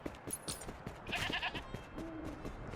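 A short sheep bleat from the video game Wuthering Waves rises over light, close tapping and clicking noises, with a brief high chime in between.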